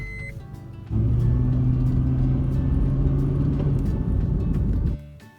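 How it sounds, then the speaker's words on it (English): A Honda Pilot on a test drive after a brake job, with steady engine and road rumble rising in, holding level for about four seconds with a low drone, then easing off. "So we'll take it out for a test drive and see how these new brakes work."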